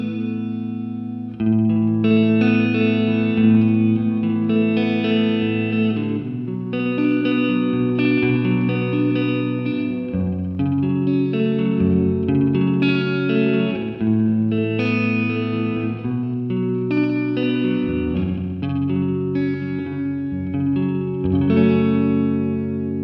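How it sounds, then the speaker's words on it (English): Electric guitar played through the delay of an Old Blood Noise Endeavors Excess V2 pedal, with sustained chords and repeating echoes trailing into each other, steady and loud throughout with no talking. "Let's hear the delay."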